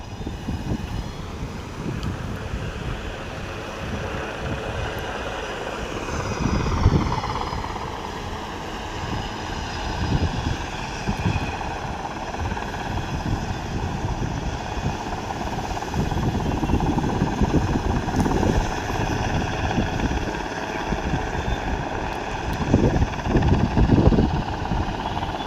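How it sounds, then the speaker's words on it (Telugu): A helicopter hovers in place nearby under strong, steady wind buffeting the microphone; its droning tones hold level through nonstop roaring gusts. "ఆ హెలికాప్టర్ అక్కడే ఉంది, దిగట్లేదు, పైకి వెళ్ళట్లేదు."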